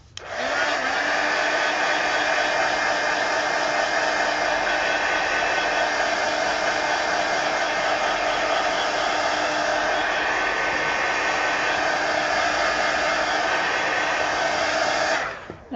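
A hair dryer blows steadily on a freshly colored page, a loud, close, unbroken whoosh that runs for about fifteen seconds before cutting off.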